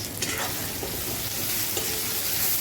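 Small loté fish fry in a pan with a loud, dense and continuous sizzle, together with faint stirring sounds and no speech.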